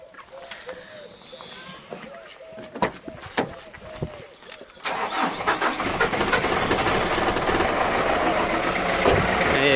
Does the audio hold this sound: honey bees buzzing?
no